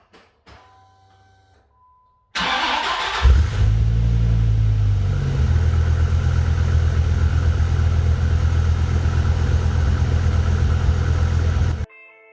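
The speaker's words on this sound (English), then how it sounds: "cold start on the Viper GTS" Dodge Viper GTS with its 8.0-liter V10 and six-speed, cold-starting after a quiet moment: a loud crank and catch, a brief flare of revs, then a steady, deep, lumpy idle that holds close and unbroken until it cuts off.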